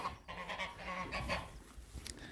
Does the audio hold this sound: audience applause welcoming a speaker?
no